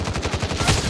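Rapid gunfire in Warzone, a loud close burst of repeated shots in quick, even rhythm filling the whole brief moment.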